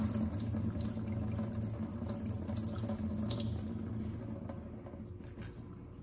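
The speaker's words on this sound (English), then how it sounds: "these have been soaking overnight, these wheat berries, and I'm gonna drain them out now" Soaked wheat berries drained after an overnight soak, giving a steady rush of pouring water that fades slightly toward the end, close and continuous, with no speech.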